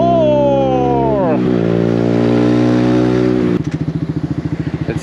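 A Yamaha MT-125 motorcycle roars while being ridden: the engine winds down through a gear change into a steady drone, then settles into a loud, pulsing throb near the end.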